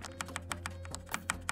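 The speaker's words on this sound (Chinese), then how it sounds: "这个是小键的声音啊。 这个就是直上直下的红轴" Close, rapid typing on the small keys of a Corsair K68 mechanical keyboard with linear red switches: a quick run of light, crisp clicks, fairly quiet, with no voices.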